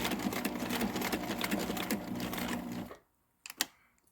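A sewing machine stitches sailcloth close to a batten pocket, running in a steady, dense whir for about three seconds and then stopping dead, followed by a few soft clicks and a brief mechanical clunk as the needle and foot are handled.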